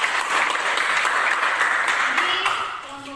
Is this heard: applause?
yes